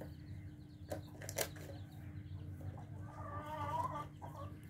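A hen clucks softly in a straw-lined nest while laying eggs, low murmuring clucks under a steady background hum, with two sharp knocks early on and a longer run of clucking near the end.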